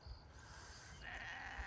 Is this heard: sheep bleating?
yes